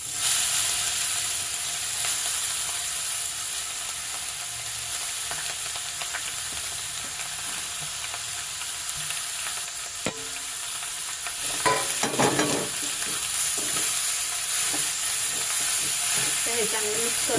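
Grated carrot hits hot ghee with fried cashews and almonds, giving a constant crackling sizzle. Near the end comes a louder stretch of stirring and scraping, and no one speaks.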